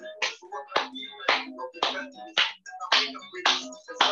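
Hands clap in a steady, brisk rhythm during a seated chair Zumba class for seniors, about eight crisp claps mixed with bursts of instructor talk and music.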